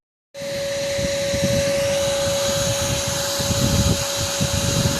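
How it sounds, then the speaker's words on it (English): Vacuum cleaner starting up and running steadily, a loud constant whine with a droning hum, used to clean a dusty 1952 two-door hardtop car project. "So I'm trying to fucking vacuum this"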